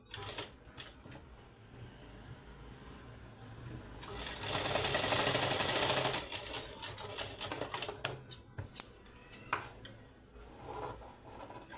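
A sewing machine stitches an apple cut kurti, its needle chattering steadily and growing louder and denser midway, then breaking into shorter bursts of stitching near the end.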